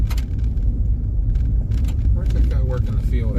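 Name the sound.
pickup truck driving behind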